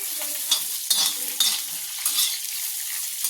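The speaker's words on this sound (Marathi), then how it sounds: "आपण हे शेंगदाणे चांगले भाजून घेतले आणि त्यात परत मिरच्या टाकल्या बघा" Peanuts and green chillies dry-roasting in a pan for green chilli thecha, with a spoon scraping and stirring in several brisk strokes over a faint sizzle, close and fairly quiet.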